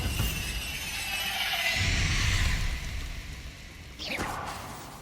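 A Bombarda blasting spell from the Hogwarts Legacy game goes off with a loud whooshing, shattering burst, followed by a second sharp crackling impact near the end, over a dense rumbling game soundscape.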